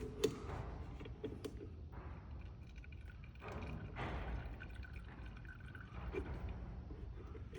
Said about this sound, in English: we're gonna sump from the lowest spot in the system